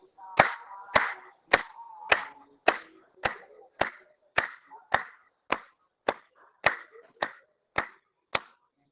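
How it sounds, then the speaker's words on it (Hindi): A yoga session group claps hands in a slow, steady rhythm, about fifteen sharp, crisp claps evenly spaced and fairly close. Soft chatter sits under the first few claps. "चलिए बजा लेते हैं ताली।"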